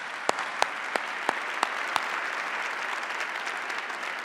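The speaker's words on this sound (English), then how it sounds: "Let's give Rick a round of applause." Audience applause at a formal event, a few sharp individual claps at first, then a steady even wash of clapping at moderate level.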